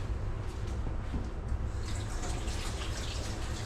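Water from a tap runs steadily while hands are washed, a continuous close rushing splash with slight variations, no one speaking.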